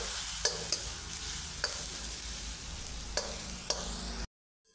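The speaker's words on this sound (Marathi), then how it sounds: "सगळं आता मिक्स करून घेतो. सगळे मसाले छान भाजून घ्यायचे त्याच्यासोबत." Spices for paneer bhurji being stirred and roasted in a pan, a steady soft sizzle broken by several sharp scrapes of a spoon against the metal, close and with no talking, cutting off abruptly near the end.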